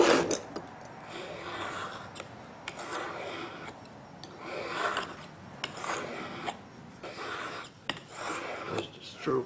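A custom knife blade drawn across a fine sharpening stone in slow, uneven strokes, each a short gritty scrape with quiet pauses between, close by and alone.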